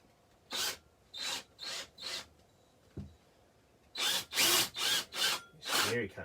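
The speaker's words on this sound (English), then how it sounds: "I'll drill out the other end now." A hammer drill bores through the steel frame of a Jayco Journey travel trailer in short, grinding bursts, with brief pauses between them and a faster run of bursts near the end.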